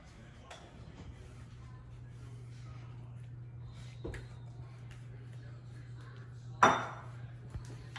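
Shrimp with onions, pepper, salt and garlic powder goes onto a pan for shrimp and grits stuffed bell peppers. Quiet clinks and scrapes of cookware sit over a steady hum, with one sharp metallic clatter near the end.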